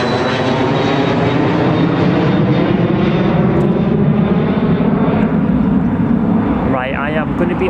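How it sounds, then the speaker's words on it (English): A jet aircraft on the runway at Newcastle Airport, a loud, steady broadband engine roar filling the whole clip, with a faint rising whine near the end. "I just missed the jet there."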